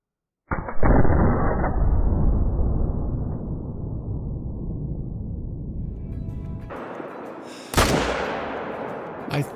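A rifle shot at a large animal in the hunting game Call of the Wild fires with a sharp, loud crack and a long rolling echo that fades over several seconds, followed by a second, quieter boom near the end.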